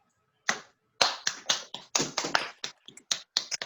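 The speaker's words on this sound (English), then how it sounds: "It is very nice to hear the applause instead of just seeing them." A small group claps at a Toastmasters meeting in a run of separate, crisp, close claps with gaps between them rather than a dense ovation.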